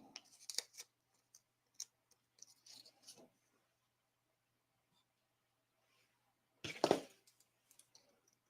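Small scissors snip through beading thread in a quiet room, with a few faint clicks and cuts early on, then one louder, closer snip after a long silence.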